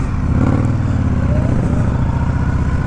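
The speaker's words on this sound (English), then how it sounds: "And you can hear the V-twin." A 2021 Indian Scout Bobber V-twin idles close by through performance exhaust pipes, giving a loud, lumpy, raspy pulse that stays even throughout with no revving.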